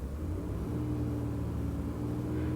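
A Lexus car engine held at a steady low idle rumble that rises slightly as it is revved, a continuous close mechanical drone with no talk.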